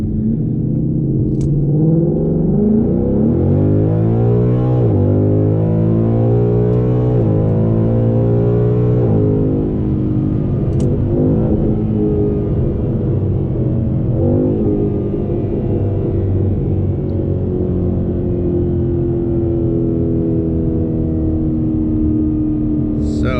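A tuned 2019 Ford Mustang GT PP1 V8 pulls hard, its rising pitch stepping through several gear changes, then settles to a steady loud cruise, heard from inside the car with some talk.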